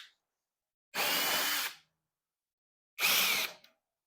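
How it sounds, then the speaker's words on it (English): Screws being backed out of an evaporator coil panel with a 5/16 nut driver on a power drill, heard as two short whirring bursts of under a second each, separated by silence. "There's one screw here and one on the other side, which will require a 5/16 nut driver."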